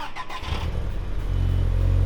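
A car engine, a DTM race car left sitting all day, turns over and catches, settling into a low steady rumble that grows louder toward the end.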